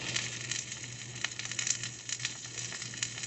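Steak sides sear in a hot pan, a faint steady sizzle with light crackling pops scattered throughout.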